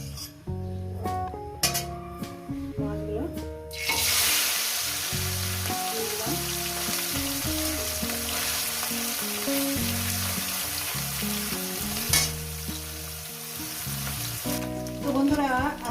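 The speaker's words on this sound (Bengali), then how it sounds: "তেলটা গরম হয়ে গেছে এবারে মাছগুলো আমি অল্প অল্প করে দিয়ে দেবো" Small mourala fish going into hot oil, a sharp sizzle that erupts and then holds as a loud, steady frying hiss with occasional clinks of a utensil, faint talk in the background.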